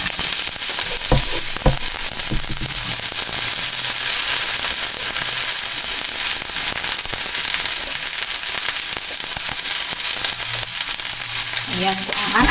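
Bitter gourd and egg frying in a small amount of hot oil in a pan, giving a loud, steady sizzle throughout with occasional crackles and pops; no one speaks.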